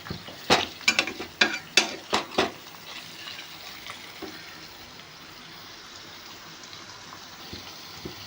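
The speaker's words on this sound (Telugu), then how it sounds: "ఈ రొయ్యలు కూడా ఫ్రై అయ్యే వరకు ఫ్రై చేసుకుంటూ ఉండాలి" Raw prawns and sliced onions frying in a pan for a tamarind-leaf prawn dish, with a few sharp stirring scrapes and clatters early on, then a steady soft sizzle close by, with no talking.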